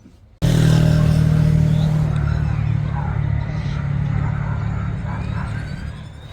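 An Airwolf RC model helicopter starting up for a test flight, its motor kicking in abruptly and then whirring loud and steady with a low drone, fading slightly over time.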